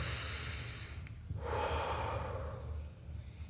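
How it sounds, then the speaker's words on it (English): A single deep breath, drawn in slowly and released in a quiet, close exhale, soft and calm with no talking. "So you just take a deep breath"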